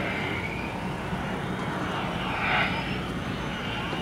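An F-16 fighter jet approaching to land at an airshow, a steady broad engine roar holding throughout with a slight swell near the end, moderately distant and no voices.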